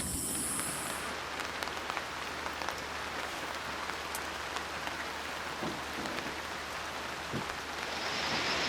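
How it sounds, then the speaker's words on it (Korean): Steady rain pours down over a seaside backpacking campsite at Dangeum village on Maemuldo island, a dense, continuous patter with occasional louder drops close by, wind and waves adding to the wash, and no voices. "또 비가 옵니다"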